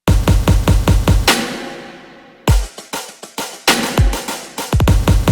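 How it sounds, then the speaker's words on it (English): Crisp, rapid marching snare hits in tight rhythmic bursts with a deep booming beat underneath, briefly pausing for a swelling hit before the busy pattern returns, in a K-pop dance track. "Maybe marching snares to build up the energy."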